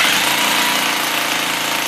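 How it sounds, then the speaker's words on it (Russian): A rotary hammer drills holes into a wall while a fireplace stove is being installed. It makes a loud, steady, close grinding roar with dense rapid hammering throughout, and no one speaks. "Перфоратором в стене делаем 2 аккуратненьких отверстия."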